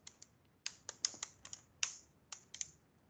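Programming code is typed on a computer keyboard in short, irregular bursts of crisp, close key clicks with pauses between them, with no voices present.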